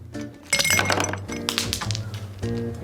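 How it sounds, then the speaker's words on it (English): Ice cubes clink and rattle into a tall glass in several bright bursts over a few seconds, crisp and close, with faint musical tones underneath. "fill a tall glass with ice"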